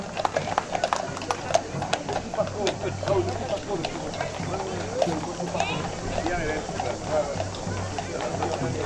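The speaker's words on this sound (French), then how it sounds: "Un cheval de Signane, merci beaucoup Signane" Horse hooves clip-clop steadily amid a noisy outdoor crowd at the Saint Eloi festival procession in Château-Gombert, with voices and applause mixing over the rhythmic hoofbeats.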